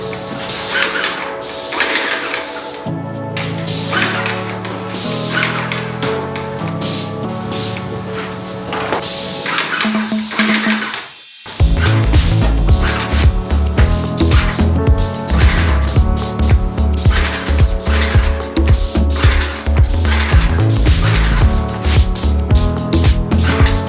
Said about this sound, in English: I started spraying on the dark green paint